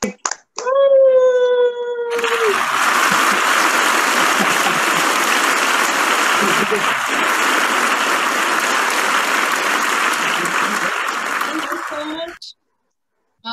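A large audience at a business presentation breaks into loud, sustained applause lasting about ten seconds, dense and steady, before cutting off abruptly; a brief voice is heard at the start.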